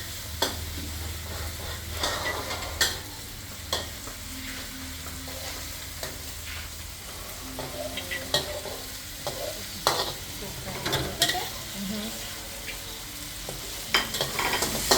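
Kale stems sizzle steadily in a pan during stir-frying for vegetarian pad see ew, with frequent sharp scrapes and clanks of a spatula stirring against the metal, close and fairly loud.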